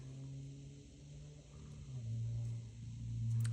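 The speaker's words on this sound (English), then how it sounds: "I hear a fast little car" A car engine rumbles faintly in the distance, growing slightly louder and revving higher toward the end as it passes.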